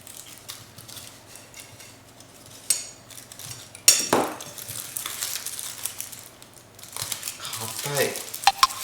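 A knife scrapes and presses through a baked potato crosswise, producing close crinkly cutting and utensil clatter against a plate, with a sharper clack midway and bursts of scraping toward the end under low background noise.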